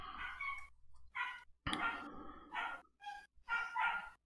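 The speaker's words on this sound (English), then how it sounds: "Puppy." A puppy gives a series of short, high yips and barks in quick bursts with brief gaps, fairly close and clear against a quiet background.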